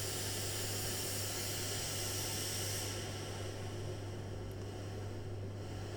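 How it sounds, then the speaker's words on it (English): Filtered white noise synthesized in Pure Data makes a steady, quiet hiss. About halfway through, the bright upper part dulls noticeably as the filter changes. "If you use white noise,"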